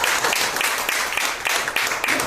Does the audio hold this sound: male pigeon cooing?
no